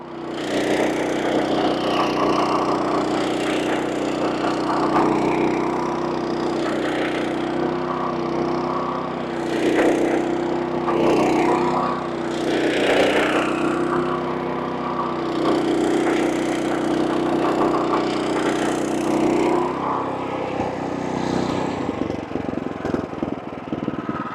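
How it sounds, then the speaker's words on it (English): A small stump grinder chews through tree stumps, its engine holding a steady loud drone while the cutting wheel throws off repeated bursts of splintering wood crunch, close and continuous, then the grinding fades near the end. "So yeah, I kind of love my little stump grinder."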